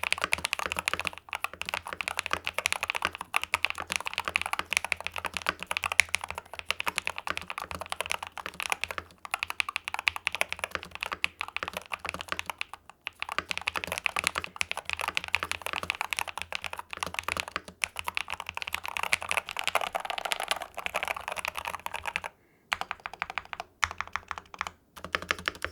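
Steady typing on a Drunk Deer A75 Ultra mechanical keyboard, a rapid flurry of clacky keystrokes with occasional heavier spacebar thunks, close and continuous with a short break near the end.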